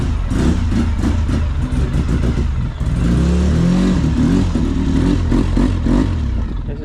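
2007 Polaris Sportsman 700 twin-cylinder ATV with an FMF exhaust and its front bodywork removed, loud and close, chugging and clattering as it idles and revs while backing out, with a brief throttle rise midway.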